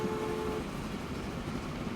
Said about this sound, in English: So let's watch our ore train come in through here.